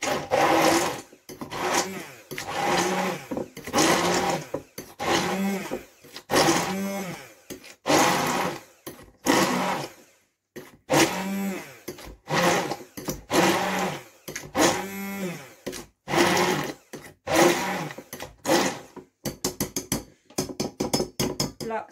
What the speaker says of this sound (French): Là, je mixe les oignons.